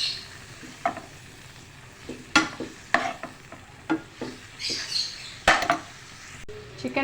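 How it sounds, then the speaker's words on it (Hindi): Chicken frying with garlic and ginger powder, stirred in a pan: a low sizzle under repeated sharp scrapes and clinks of a spoon against the pan, irregular and close, with no voices. "बस अब ये सब डाल के हमने चिकन को बहुत अच्छी तरह फ्राई करेंगे"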